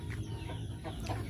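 Free-range village chickens cluck and murmur inside a coop, a steady close chorus of low fowl sounds with no talking over it.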